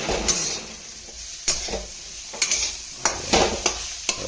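Hot oil sizzling in a pan for frying duck eggs, a low steady fry broken by sharp scraping and clinking of a utensil against the pan at irregular intervals, close by with no talk.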